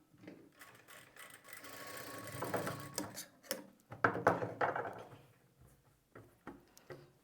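A sewing machine stitches along a scalloped blouse neckline, a soft, close whir in short uneven bursts with pauses and small handling clicks between them.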